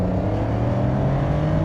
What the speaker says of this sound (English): you can hear the engine that bit more clearly. It's a lovely noise.